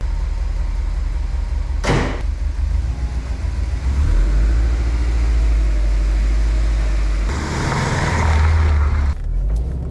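Fresh engine of a Subaru Impreza GR STI 330S running as it warms up, a steady close idle rumble with a swelling rev and a couple of brief sharp knocks or clunks.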